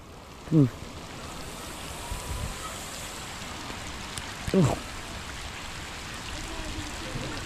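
Steady, dense hiss of heavy rain pouring down close by, with a couple of brief voices rising above the downpour.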